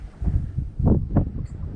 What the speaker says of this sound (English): The wind's blowing pretty hard, probably 20.